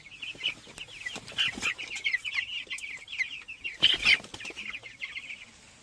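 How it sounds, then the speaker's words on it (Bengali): Broiler chickens on a poultry farm cluck and squawk busily while feeding, many birds calling at once with a few louder cackles and a brief flutter, close by and with no talking. "কয়লার মুরগিও আছে"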